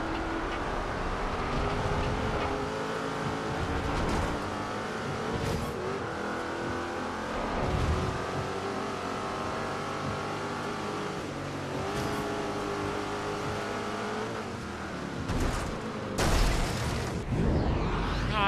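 Engine of a Jaguar car driven in the racing game Forza Horizon 2: a loud, continuous engine drone with revs rising and falling, gear shifts and a few sharp bangs, no talking.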